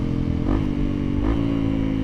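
A Honda CRF300L motorcycle being ridden gives a close, steady engine drone with a couple of brief rises in pitch, like small throttle changes, over rough clatter.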